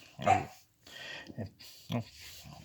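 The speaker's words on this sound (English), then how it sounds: "Scrappy Diggs is barking about something or another." A dog barks in several sharp bursts, a few loud woofs spaced unevenly, fairly close and standing alone.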